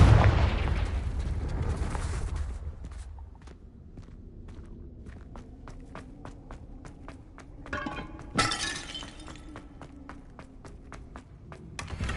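A Confringo spell explosion in a wizarding video game: a loud shattering crash up front, then quiet crunchy footsteps in steady rhythm, with another sharp burst and breaking sound near the end.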